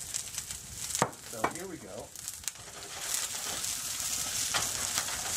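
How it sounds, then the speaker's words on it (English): Green peppers sizzle in olive oil in a pan, a steady hiss that grows denser toward the end, with stirring scrapes and clatter early on and someone speaking briefly. "because you can hear the sizzle now"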